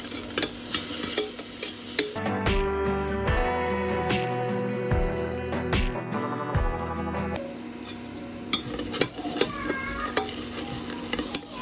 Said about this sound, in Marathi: कांदा जरा परतून झालाय